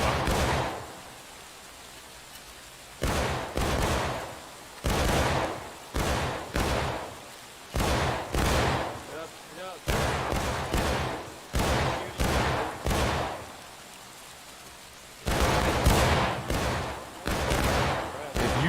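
Rapid rifle fire in the Civil War game War of Rights: loud, broadband bursts of musket shots cracking in quick clusters with short gaps between volleys, a voice talking intermittently through the shooting.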